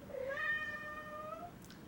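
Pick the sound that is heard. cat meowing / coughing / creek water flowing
cat meowing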